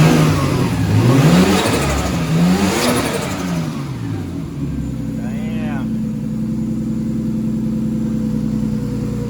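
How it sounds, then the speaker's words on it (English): A Nissan Skyline R33 engine, not yet warmed up, swells through two rising revs, then falls back to a steady low idle. It sounds close and loud. "Give her a little rev"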